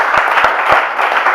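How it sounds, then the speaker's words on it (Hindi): An audience at a Hindi poetry recital breaks into dense, steady applause, with many hands clapping together close by and no pauses. "एक बार मिलकर सब ताली बजाएंगे।"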